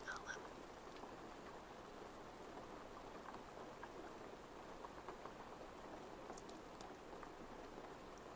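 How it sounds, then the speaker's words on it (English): Steady rain sound effect playing quietly beneath a live ASMR stream, a continuous soft hiss with scattered droplet-like patter and no clear breaks across the whole stretch. "So I can turn the rain noise down"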